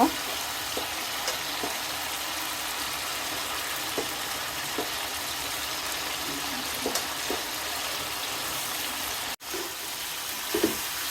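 Okra pieces hit a pan of fried spice paste for a shrimp and lady finger stir-fry, producing a steady, fairly loud hiss with occasional clicks of stirring and a brief dropout near the end.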